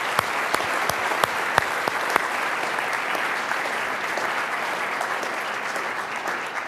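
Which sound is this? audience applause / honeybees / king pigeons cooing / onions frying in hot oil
audience applause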